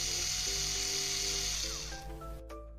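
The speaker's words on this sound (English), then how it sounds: "This is a drill. Makes holes or drives screws quickly." An electric drill whirs steadily at high pitch for about two seconds, then winds down, with a tonal hum underneath.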